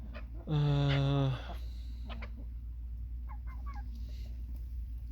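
A rooster crows once, loud and close, followed by softer clucks and chirps from poultry over a low steady hum.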